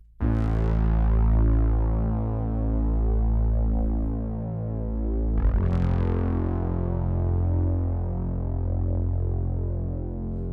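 Layered synth basses for an indie pop song: a sustained, droning low tone sounding alone, with a sharp re-attack at about five seconds before it holds steady again.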